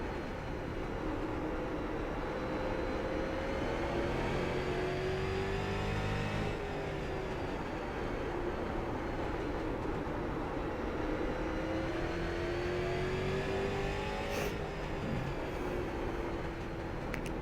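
Race car engines from the iRacing game whine steadily in a long, continuous drone, rising and falling in pitch through gear changes and corners, loud and sustained with no talk.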